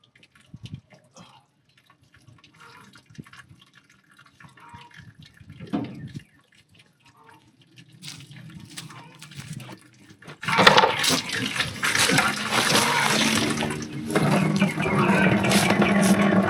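Hydraulic fluid gushes and splashes out of a disconnected hose on a broken-down excavator, starting as scattered drips and trickles, then turning into a loud, steady pouring rush for the final stretch.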